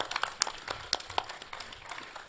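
Scattered audience applause at a LAN gaming event, a modest group clapping with distinct individual claps standing out in an uneven, fairly quiet patter.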